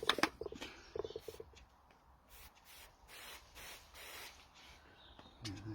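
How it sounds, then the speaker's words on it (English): Short bursts of fine hissing water spray from a sprayer repeat in an uneven rhythm, close by, with a few soft clicks and rustles at the start and end. "Probably needs to be a fine spray actually."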